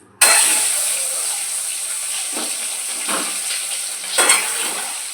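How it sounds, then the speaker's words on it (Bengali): Eggs hit hot oil with a sudden loud sizzle that continues as a steady hiss, swelling briefly as they are stirred in the pan. "তেল গরম হয়ে গেছে, আমি এবার ডিমগুলো দিয়ে দিলাম।"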